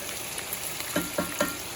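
Ground beef browns in a frying pan with a soft constant sizzle, then three quick stirring scrapes in a row near the end.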